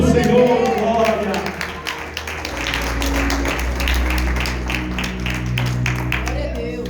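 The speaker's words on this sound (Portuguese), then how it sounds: "Aplauda o nome do Senhor, glória." Church congregation claps steadily through a worship service, a dense continuous patter of applause under a preacher's voice and background music.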